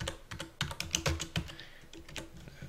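Typing on a computer keyboard, a quick uneven run of close, crisp key clicks and taps over quiet room tone, with no voices.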